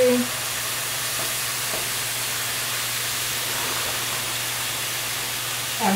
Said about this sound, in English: we're going to saute these in this skillet for about 5 to 6 minutes on each side